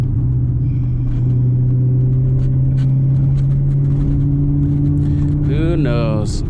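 Tuned 500 hp C7 Corvette Stingray with FBO upgrades cruising around town in fourth gear, its engine giving a steady, loud low drone and rumble throughout, with a brief rising rev near the end.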